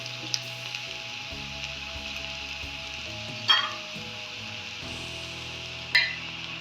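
Cumin potatoes fry crisp over full gas flame, a steady close sizzle with a faint background hum and two sharp spattering pops partway through, no voices.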